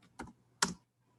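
Two separate clicky keystrokes on a computer keyboard while coding a React app, close and crisp with a short pause between them, over a faint low hum and no talk.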